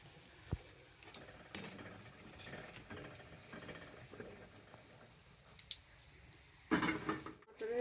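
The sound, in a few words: stirring paneer curry masala in a pan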